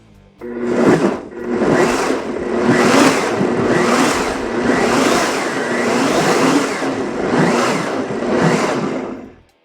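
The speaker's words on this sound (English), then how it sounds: "Now we're going to mix this again by pulse blending it until it's nice and smooth" A blender pulses a rock-and-roll themed cocktail, loud and close, in repeated bursts of about a second each with brief dips between them.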